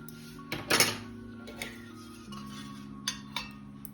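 A cooking pan picked up and handled in a home kitchen while preparing dalgona candy gives a few close metallic clanks and knocks: a loud cluster early on, then lighter, sparser taps, with no talking.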